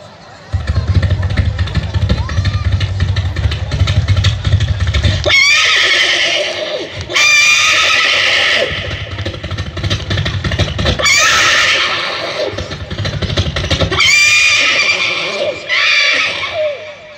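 A voice imitates the rapid hoofbeats of several horses approaching, loud bursts of clopping and neigh-like cries with a low rumbling start.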